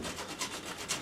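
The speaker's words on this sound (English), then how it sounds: "I'll clean that up a bit with a file." A small hand file rasping across a metal car part from an Austin Healey 100/6, short scraping strokes repeating near and steady, with two brighter strokes standing out, no voices.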